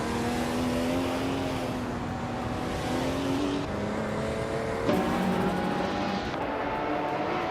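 Race car engines from a racing game, led by a 1994 Nissan 300ZX Turbo GT500, roar continuously and loudly, shifting pitch as gears change and revs rise and fall, with other cars droning close by.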